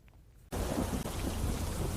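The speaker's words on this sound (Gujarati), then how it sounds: "ગાજવીજ તેજ પવન સાથે વરસાદ પડ્યો" Heavy monsoon rain pours down with thunder and strong wind in Gujarat, bursting in abruptly after a quiet half second and then roaring on as a loud, dense, steady wash with a low rumble underneath.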